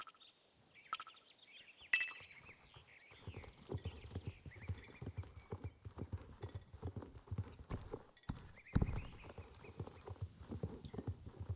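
A Friesian horse walking in Star Stable, steady rhythmic clip-clop of hooves on firm ground, close and fairly quiet, with occasional sharp bursts of other game effects between the steps.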